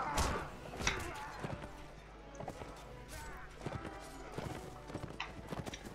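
Horse hooves clip-clop in an uneven trot during a medieval battle in The Last Days of the Third Age, with sharp thuds over a busy game mix while someone talks over it.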